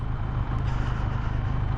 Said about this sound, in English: What's going on here with the cement truck?